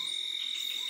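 A steady high-pitched trilling chorus of frogs croaking at night by a hut, continuous and fairly faint, with no voices.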